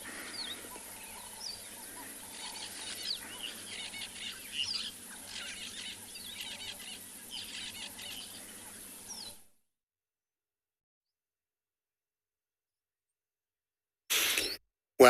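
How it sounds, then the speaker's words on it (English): Birds waking up at sunrise on a safari at Tswalu, scattered calls and squawks over a soft outdoor ambience for about nine seconds, then silence and a brief loud burst near the end. "enjoy the sounds of the birds waking up"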